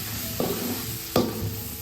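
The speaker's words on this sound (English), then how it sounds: "Next, add the crushed ginger, garlic and green chillies." Crushed ginger, garlic and green chillies frying in a pan for Malabar beef biryani, stirred twice with clear scraping strokes over a steady close sizzle.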